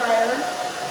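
A Babyliss Pro blow dryer running steadily while drying hair, a brief close, even whooshing hum with no talk.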